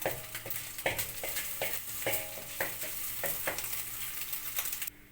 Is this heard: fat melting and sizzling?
yes